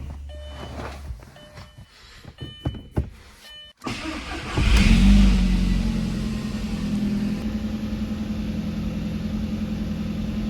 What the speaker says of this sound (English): we're gonna go ahead and start this thing up